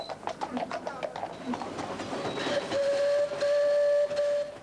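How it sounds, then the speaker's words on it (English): A steam train rumbles past with rhythmic clacking at a steam event in Dordrecht, then a long, steady whistle rings out loudly near the end. "even a steam railway journey"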